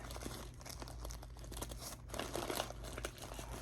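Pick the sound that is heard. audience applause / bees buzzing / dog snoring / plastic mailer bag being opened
plastic mailer bag being opened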